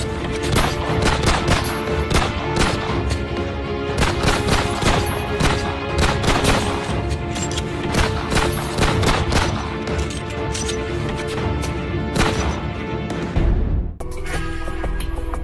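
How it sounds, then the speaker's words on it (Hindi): Rapid bursts of gunfire ring out during a gangster's shootout with police, loud and dense throughout, with volleys overlapping nearly without pause before a sudden drop near the end. "उन्होंने भी ताबड़तोड़ फायरिंग शुरू कर दी"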